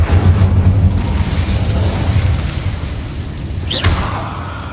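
An Incendio fire spell cast in Hogwarts Legacy bursts out as a loud, deep whooshing roar of flame that slowly fades, with a sharp rising magical swish near the end and no talk.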